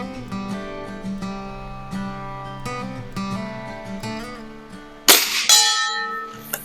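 An air rifle pellet from a Beeman Crow Magnum strikes a metal bell, giving a sharp bright clang near the end that rings out, after a stretch of sustained tonal ringing.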